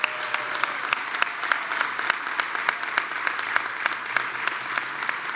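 An audience at a Long Island announcement by Governor Andrew Cuomo gives a steady, dense round of applause, with many hands clapping continuously at moderate loudness.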